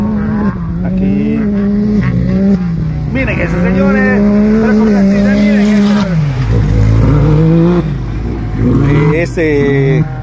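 A race car engine revs hard and accelerates during a qualifying race on a dirt track, loud and close, with the pitch climbing and dropping through gear changes and a commentator talking over it.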